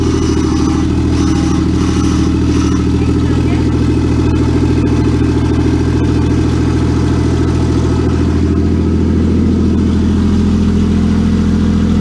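A Toyota Cressida fitted with a 1JZ engine running steadily at close range, a loud, even mechanical drone with a whining power steering pump layered over it for the whole stretch.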